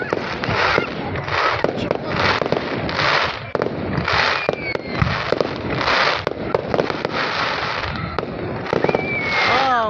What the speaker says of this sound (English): Oh my goodness. I saw the fireworks.